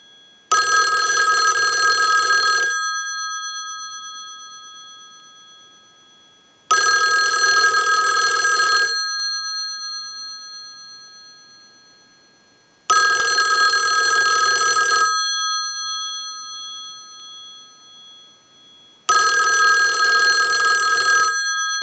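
A Western Electric 2500 desk telephone's bell rings in four long bursts, evenly spaced with silent gaps between them, loud and close.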